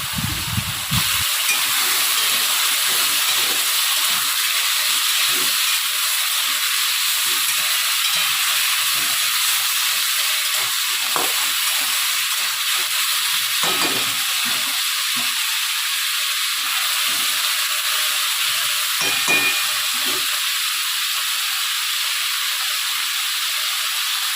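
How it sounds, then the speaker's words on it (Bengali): Cut potato pieces fry in hot oil for a Bengali poppy-seed dish, giving a long, even, bubbling hiss that holds steady close by for the whole stretch, with occasional soft low knocks of stirring and no voices. "আগের থেকে কেটে টুকরো করে রাখা আলুগুলো দিয়ে সেগুলো খুব ভালো করে ভেজে নেব আলুগুলোকে"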